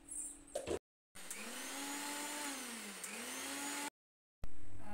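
A mixer grinder whirs loudly as it grinds a batter with jaggery and milk, running in a steady drone for a few seconds between abrupt cut-offs, with no talk.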